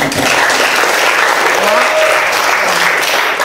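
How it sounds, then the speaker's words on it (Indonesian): A room full of people claps steadily and loudly throughout, dense applause with no pauses. "Tepuk tangan dulu."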